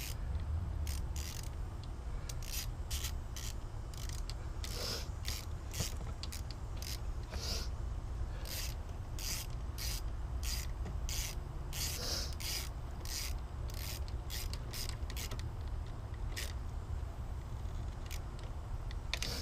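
A ratchet tightens an O2 sensor on a 2006 VW Jetta TDI, giving a steady run of quick, close metallic clicks in short bursts over a low background hum, with no talking.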